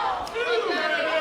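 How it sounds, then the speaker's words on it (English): Crowd at a women's tag-team wrestling match in the White Eagle hall roaring and shouting loudly, a dense sustained cheer with rising voices over a brief stretch. "this crowd is rocking"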